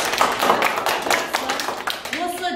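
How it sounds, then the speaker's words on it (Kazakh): Children in a Kazakh-language open lesson clap for one another in a classroom, a loud burst of scattered, overlapping handclaps with voices talking over them. "бір-бірімізге шапалақ ұрып қояйық"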